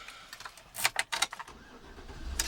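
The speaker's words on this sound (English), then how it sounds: "press a little circle, hold it, and the car will start up" Keys jingle close by, then a black 2012 Chevrolet Suburban LT fires up by remote start, its engine catching faintly and settling into a low idle that grows toward the end.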